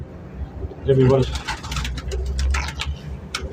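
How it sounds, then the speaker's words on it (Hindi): Sialkoti pigeons coo in short throaty bursts, close by, alongside flapping and rustling with some voices nearby. "सियालकोटी कबूतर है जी"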